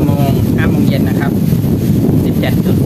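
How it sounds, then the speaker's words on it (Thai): Strong wind buffets the microphone at a reservoir during an evening fishing session, a loud, constant low roar filling the whole clip with no clear talk. "ลมค่อนข้างแรงครับ"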